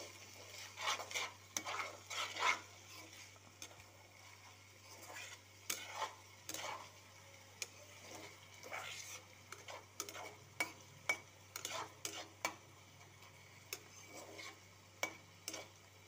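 Ginger and garlic fry in a pan while being stirred, with repeated scraping strokes of a spoon against the pan over a soft sizzle, fairly quiet and close, with no talking.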